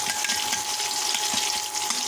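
Onion and spice paste of chili, turmeric, cumin and coriander frying in oil, a dense continuous sizzle close up, steady and unbroken for a couple of seconds.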